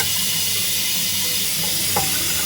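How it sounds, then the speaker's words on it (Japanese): Cooked yakisoba noodles rinsed and cooled under a running kitchen tap, a loud, steady rush of water splashing in a sink, with no talk. "これを伸びないようにお水で洗いながら冷やしていきます"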